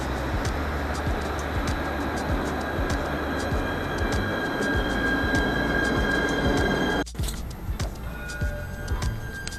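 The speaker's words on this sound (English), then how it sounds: "So this is Le Havre tram, which is open I think for 2 or 3 years." Inside a moving Le Havre tram, a steady loud rumble of wheels on rails runs throughout with rhythmic rail-joint clicks, then an abrupt change near the end as the sound drops and shifts.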